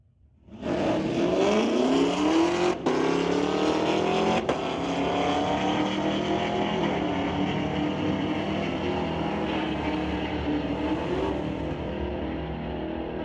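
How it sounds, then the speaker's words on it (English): A 2019 Chevy Camaro and a 1979 AMC launch side by side at a drag strip, engines rising into a loud, sustained roar that holds steady with the pitch climbing through the gears. "going against Matt Butler from Mission in the 1979 AMC"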